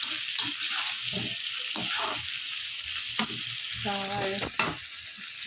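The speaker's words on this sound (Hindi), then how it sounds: "तेल में प्याज वगैरह सुरख करेंगे।" Onions sizzle steadily in hot oil and ghee while being browned for a karela dish, a continuous close frying hiss with occasional stirring scrapes and a brief tonal clink near the end.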